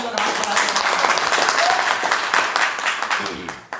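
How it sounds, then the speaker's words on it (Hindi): A seminar audience in India gives a loud, dense burst of applause, many hands clapping together in a sustained roar that fades near the end, with some voices mixed in. "ताली जोरदार वाली बजाइए"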